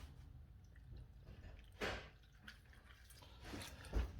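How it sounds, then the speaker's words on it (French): Soaked gelatin squeezed by hand to wring out the water for a chestnut mousse makes faint, close squishing and dripping sounds, with a couple of brief wet squelches standing out against a quiet background. "Allez, on presse bien. On fait sortir le maximum d'eau."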